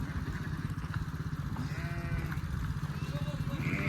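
Sheep bleating in a village farmyard pen, calls rising over a rough, pulsing background of livestock and people talking nearby.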